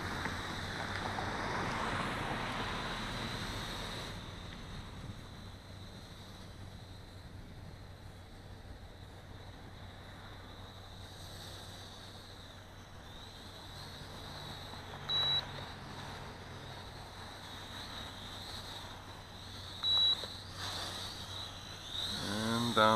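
A small Huiying Toys X6050 quadcopter drone in flight, its thin high whine holding steady and fairly faint under gusty wind noise, with a few brief bumps and swells as it manoeuvres.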